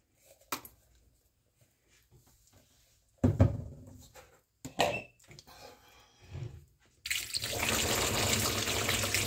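Tumbled rocks from a rock tumbler barrel get rinsed, with scattered clatters and handling knocks giving way to a steady rush of running water near the end, close by and with no speech.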